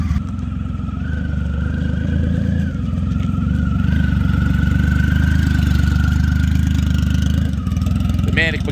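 A 150 hp Triumph Rocket touring motorcycle engine runs close by with a loud, steady rumbling drone and a brief throttle blip near the end, while a voice talks underneath.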